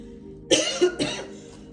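A single throat-clearing cough, close and fairly loud, in two quick rough bursts against a quiet background.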